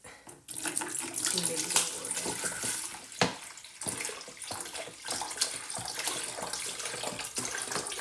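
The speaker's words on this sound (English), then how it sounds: "Adding tap water in here." Tap water pours steadily into a container for dye mixing, a broad continuous splashing rush with a few brief dips and bumps as the flow shifts.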